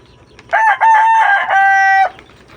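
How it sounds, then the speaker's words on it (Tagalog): A rooster crows loudly and close by in a single long, drawn-out call with a break partway through, standing clear over a faint background. "Oh, maraming manok doon."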